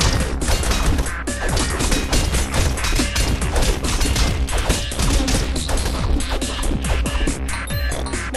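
Repeated bomb explosions in the video game Castle Crashers, loud bursts of crashing, thudding blasts in rapid succession with hardly a pause, mixed with game effects and no speech.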